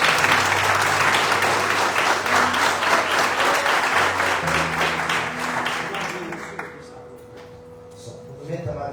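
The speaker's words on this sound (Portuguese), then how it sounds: "Você pode aplaudir o Senhor?" A church congregation claps loudly and steadily during a celebration service, the applause thinning and fading toward the end as a voice begins to speak.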